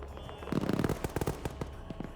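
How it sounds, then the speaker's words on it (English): Rapid bursts of sharp cracks and pops fire in quick succession, loud and close, like video game gunfire with no talking. "Okay, gunshots."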